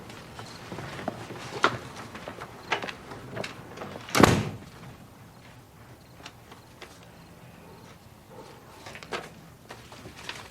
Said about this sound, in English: I thought I heard the front door.